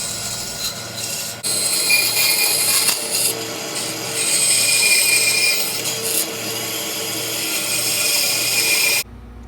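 A bandsaw cuts slots in wood for a bar clamp rack, giving a steady, loud whirring and rasping hum that starts abruptly and runs continuously, with small shifts in pitch as the blade bites, then cuts off sharply.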